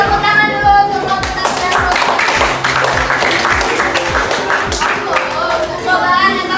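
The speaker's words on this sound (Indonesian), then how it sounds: "Tepuk tangan dulu untuk kelompok" A classroom of students clapping for a group after a static electricity lesson presentation, brisk uneven claps with rhythmic thumps and desk taps, close and lively, with chatter and a teacher's voice running over the top.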